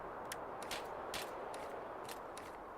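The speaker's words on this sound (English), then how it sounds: "Hearing many gunshots." Gunfire in the video game Escape from Tarkov: several distant shots at irregular intervals, sharp high bursts over a steady background hiss, fairly faint.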